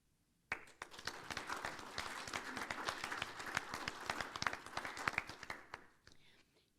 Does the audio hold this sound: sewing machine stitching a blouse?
no